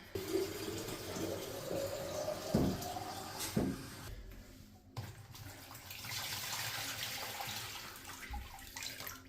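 Water running from a bathroom tap into a 2-liter bottle, a steady close splashing and gurgling stream with a rising filling tone and a few knocks and clunks.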